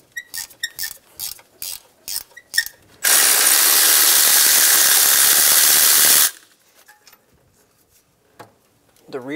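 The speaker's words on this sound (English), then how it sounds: "Using a 14 millimeter wrench, remove the bolt for the AC compressor." Close wrench ratchet clicking in quick bursts, then a loud steady mechanical whir for about three seconds, while removing a 14 mm AC compressor bolt on a 2000–2006 Toyota Tundra 4.7L V8.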